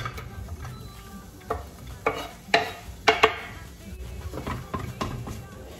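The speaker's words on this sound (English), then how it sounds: "I'll get started with chucking the onions first" Onions go into a cooking pan for a quick Easter dinner, giving a soft sizzle broken by several sharp clatters and scrapes of stirring and utensils against the pan, close by.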